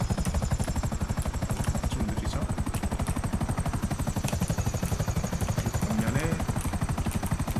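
A helicopter in the GTA 5 video game is brought to a quick stop, its steady rotor chop pulsing loudly and continuously throughout with no talk over it.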